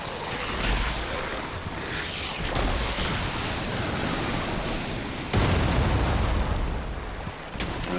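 A cannon fires and explodes in the video game Lies of P, set on a frozen coast. Loud, booming roars carry through a continuous rumbling din, with sharp surges around two and a half seconds and again near five and a half seconds.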